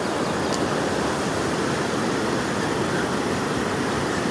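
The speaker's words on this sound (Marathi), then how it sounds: "नदीचा तुम्हाला आवाज येत असेल, खळखळ आवाज" A wide river flows past at sunrise, its water rushing and babbling in a dense, continuous broadband wash that stays loud and even throughout, with no voices.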